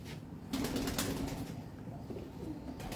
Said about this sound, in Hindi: भट्ट साहब के कबूतर हम देख रहे हैं